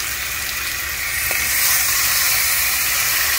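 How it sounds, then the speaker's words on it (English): Meat dropping into a preheated pan breaks into a loud, steady sizzle and hiss that swells slightly after a second and holds without voices. "And you hit a nice little sizzle"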